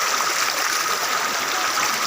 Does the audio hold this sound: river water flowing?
yes